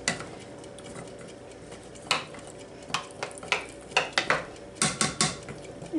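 Melted butter in a pan is stirred with a metal utensil, giving a run of quick, irregular clinks and scrapes against the pan over a soft background with no talking.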